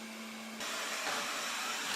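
PROSCENIC 820S robot vacuum cleaner running indoors, a low hum that switches after half a second into a broad steady whooshing suction noise, close and moderately loud with no talking.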